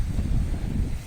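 Strong wind buffeting the microphone on the beach at Playa de Aro, a continuous low rumbling roar with gusty swells and no voices.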